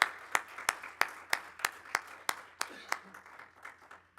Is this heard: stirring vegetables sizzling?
no